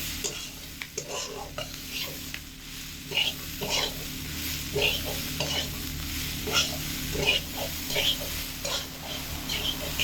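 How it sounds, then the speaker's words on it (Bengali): Chickpeas and fried potatoes being stirred in spices over medium heat, a soft continuous sizzle broken by repeated spatula scrapes and clinks against the pan, close and fairly quiet. "বুট আর আলু মশলার মধ্যে ফেলে খুব ভালো মতো মিডিয়াম আছে কিন্তু কষিয়ে নিচ্ছি আমি"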